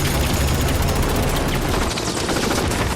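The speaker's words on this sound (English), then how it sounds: "There's been a lot more gunfire." Rapid gunfire in an action TV series excerpt, dense bursts of shots filling the clip at steady loud level with busy low rumble, no talk.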